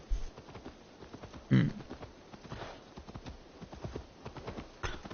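Horse hooves in Assassin's Creed Valhalla, a quiet, steady clip-clop of a ridden horse with a few louder thumps and splashy bursts, low in level with faint background sound.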